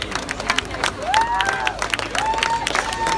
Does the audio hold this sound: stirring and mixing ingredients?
no